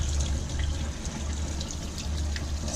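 Water draining out of a campervan's waste tank in New Zealand, a steady low rushing gush with continuous splashing that holds at an even level throughout.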